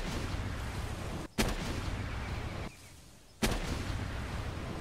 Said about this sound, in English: we could demonstrate this phenomenon with a regular rocket launcher as well